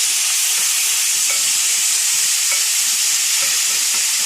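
Mushrooms and potatoes fry in a pan with a loud, dense, continuous hissing sizzle, close and steady, with occasional faint stirring ticks underneath.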